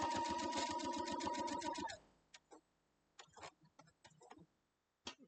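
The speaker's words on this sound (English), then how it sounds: "So I'll sew down through there." A sewing machine stitches a quilt block seam with a fast, even mechanical chatter for two seconds, then stops, leaving a few soft clicks and small handling taps.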